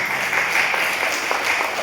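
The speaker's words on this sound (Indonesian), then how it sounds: "beri tepuk tangan buat Tuhan Yesus." A church congregation claps and applauds together, a dense, steady wash of hands that fills the space for a brief moment.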